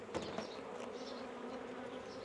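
Honey bees swarm and buzz steadily around an opened beehive during a hive inspection with smoke, a dense, continuous drone close by with a few louder passes near the start.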